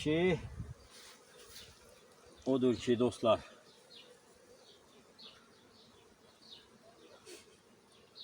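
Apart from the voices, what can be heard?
honey bees buzzing at hive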